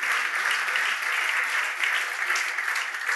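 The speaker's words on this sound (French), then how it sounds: "Est-ce que tu peux acclamer pour toi-même là où tu es?" A church congregation applauds and cheers at a French-language service, a dense, steady wash of clapping with a few voices mixed in, sustained and fairly loud throughout.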